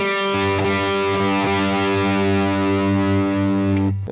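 Distorted electric guitar playing a riff, thick sustained overdriven notes ringing loud and close with slight chorus shimmer before cutting off.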